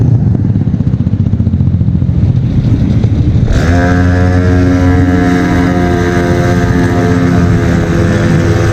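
A scooter on a group ride in Kuwait drones steadily and loudly from close by, its engine tone jumping higher partway through as it speeds up, with constant road and wind rush.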